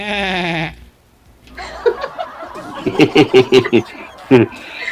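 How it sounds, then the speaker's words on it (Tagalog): A harmonic tone opens the clip, then after a pause a goat bleats in a rapid series of wavering cries, with a final bleat following a short gap. "Nakaasar kasi yung tawa ng kambing"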